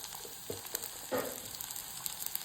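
Finely chopped large onion sizzles in hot oil in a pan while a squid coconut roast is being cooked, a close, steady crackle with small pops and a brief stirring scrape.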